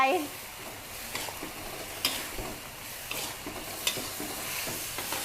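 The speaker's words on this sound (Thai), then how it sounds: "ผัดให้แครอทสุก" Carrots being stir-fried with eryngii mushrooms and egg in a pan, with a steady sizzle broken by scattered spatula scrapes and clicks, close up and moderately loud, without talk.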